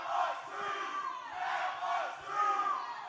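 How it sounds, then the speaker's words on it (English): A large wrestling arena crowd chants in loud, rhythmic waves during a live wrestling show, the massed voices filling the space steadily with no single speaker standing out. "And listen to this crowd chanting"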